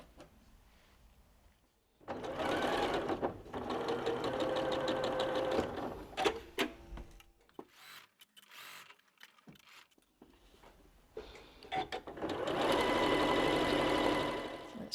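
A sewing machine stitches quilt block pieces in two fast, steady bursts of close, rapid mechanical whirring, separated by a quieter stretch of handling clicks and fabric shuffling.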